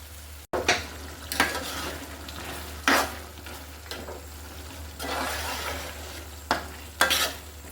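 Hog plum pickle being stirred in a pan, with repeated scraping strokes of a spoon against the metal over a steady low sizzle, close and moderately loud, no voices.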